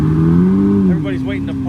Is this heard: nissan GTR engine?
yes